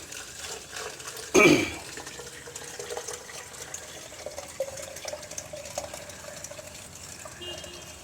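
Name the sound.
tap water being poured into a container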